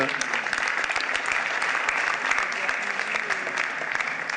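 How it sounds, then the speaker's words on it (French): An audience at a town's New Year greetings ceremony claps steadily, with many sharp individual claps blending into a sustained round of applause and a few voices faintly underneath. "applaudissez-la"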